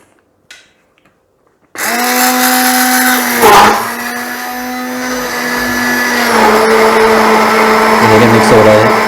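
Grinder jar blending mint, lemon juice and water: after a brief quiet start, the mixer motor roars up loudly and whirs steadily with a slight pitch dip midway, continuing to the end.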